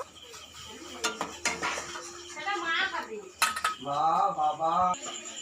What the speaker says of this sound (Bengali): এবারে একটি পাত্রের মধ্যে ঢেলে নেব।